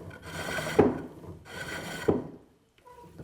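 A chisel shaves wood on a pole lathe, its bevel riding the turning cylinder. Two close, rasping cutting strokes sound about a second apart, each ending in a sharp scrape, then a short pause, with no talking.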